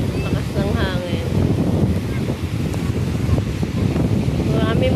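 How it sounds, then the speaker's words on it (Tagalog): Strong wind roars and buffets the microphone continuously in San Nicolas, Batangas, after the Taal Volcano eruption, with faint voices and a distant whistle-like tone underneath. "Lakas ng hangin."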